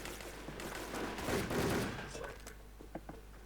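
Rapid bursts of gunfire from the online shooter game Wolfteam, a dense, loud barrage of overlapping shots that swells mid-clip and thins into a few scattered cracks.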